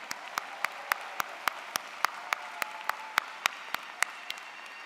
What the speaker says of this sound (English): let's just give a cheer for the fact that we're here